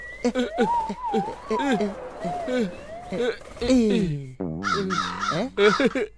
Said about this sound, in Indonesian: Ada burung besar di sini.